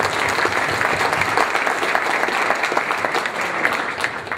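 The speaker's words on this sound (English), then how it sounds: "give him a big round of applause" A loud, sustained round of applause from an audience at a college forum, honoring a graduate of a college-bound program, with dense clapping and a few voices mixed in throughout.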